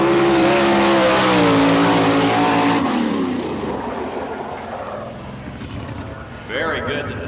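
A sprint car at full throttle on a qualifying lap at Barberville, Florida during Speedweek, a loud high-pitched engine howl that rises and then fades as the car passes toward the flag, with an announcer talking over it.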